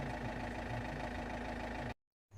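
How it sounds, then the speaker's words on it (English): A Vauxhall Zafira B 1.9 CDTi diesel engine idles with a steady, even rumble and light knock after an alternator replacement, heard close and alone, then cutting off abruptly into silence near the end. "The engine's running there"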